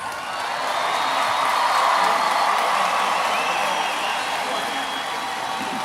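A graduation audience applauds its graduates at a Cy-Fair High School ceremony, a broad, sustained roar of clapping that swells then slowly tapers, with faint cheers and whoops mixed in.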